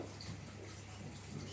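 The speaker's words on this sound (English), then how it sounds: "while that bucket of water is filling up" Bucket filling with water from a tap, a faint, steady rushing stream with no other sounds.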